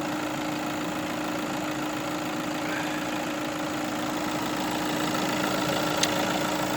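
A 2.0 TDI diesel engine in an Audi A6 Black Edition S line idles steadily close by, a constant low mechanical hum with a faint tonal whine and one small tick near the end.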